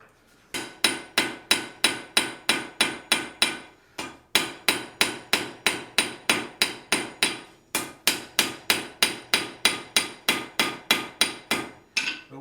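A blacksmith hammers a horseshoe on the anvil to draw it out into an even taper. Some thirty loud, ringing blows fall in quick, steady runs, split by two brief pauses.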